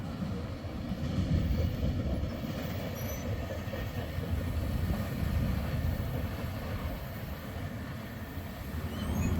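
A CSX freight train passes close by with a loud, continuous low rumble of wagons rolling over the rails. Faint wheel squeals rise above the rumble, and it holds steady for several seconds.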